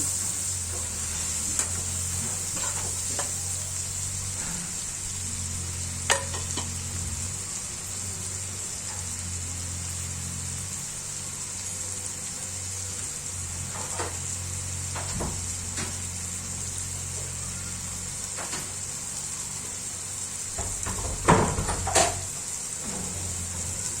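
Finely chopped tomato frying in a pan for egg biryani, giving a soft steady sizzle with scattered light taps and stirring scrapes, and a louder clatter of pan handling near the end.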